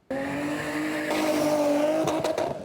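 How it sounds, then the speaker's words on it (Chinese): Race cars roar past at a large motorsport festival at a high-speed rail station in Taiwan, a sustained loud engine whine that rises in pitch, with tire squeal and rougher bursts toward the end. "一台一台的赛车声音轰轰叫，真声动北。"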